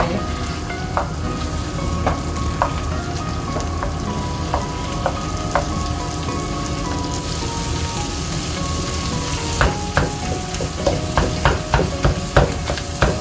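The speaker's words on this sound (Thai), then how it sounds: "หอมแล้วนะคะใส่หมูบดลงไป" Ground pork frying in a pan with pounded red chili and garlic gives a steady loud sizzle, with sharp clicks of a spatula stirring that grow more frequent toward the end.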